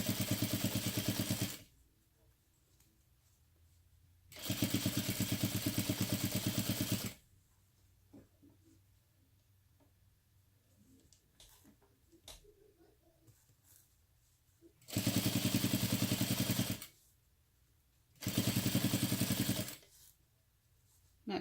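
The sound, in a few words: sewing machine stitching fabric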